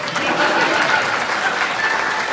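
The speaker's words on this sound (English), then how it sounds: "clap for her!" Audience at an awards ceremony bursts into steady, dense applause, a full room of clapping that stays loud and even throughout with a faint murmur of voices underneath.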